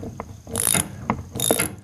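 Metal clicks and ratcheting as a shear bolt is worked loose from the PTO shaft on a brush cutter gearbox, two louder bursts of mechanical turning with short taps between, close and alone.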